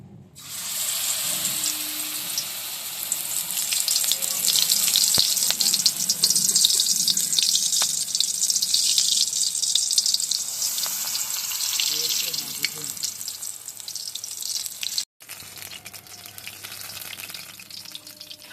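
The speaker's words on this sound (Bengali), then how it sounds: "এবার মোচার কলিটা আমি ব্যাটারের মধ্যে ডুবিয়ে এবার তেলে দেবো" Banana flower buds dipped in batter fry in hot white cooking oil, giving a loud, steady, close sizzle that runs almost unbroken and drops briefly near the end.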